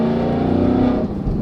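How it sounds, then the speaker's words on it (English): A supercharged 2024 Mustang GT with a Corsa Performance Xtreme cat-back exhaust and headers rumbles loudly up close with a deep, steady aggressive growl that dips briefly near the end. "Somehow, they make this aggressive sounding exhaust not have drone to it"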